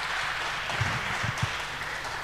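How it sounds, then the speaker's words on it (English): Applause from a conference audience greeting a speaker at a hacker camp talk, fairly soft and steady, with a few low thumps partway through. "please give him a very warm round of applause."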